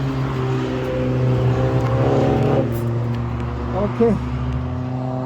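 An Audi RS6 with its exhausts fallen off, its engine droning loud and steady with a rough, throaty hum and a brief rev near the end, while a voice speaks over it.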